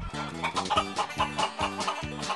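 Agassiz cross chickens on a university farm cluck in quick repeated bursts, several hens overlapping at close range in a steady, busy rhythm.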